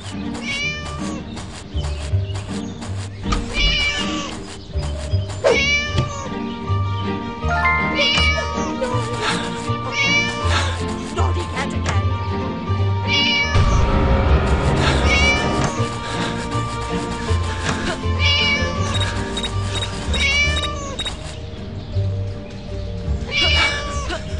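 A cat meowing in the mobile game Scary Teacher 3D, many loud, close, rising and falling meows repeating throughout, over game music with a brief louder noisy burst midway.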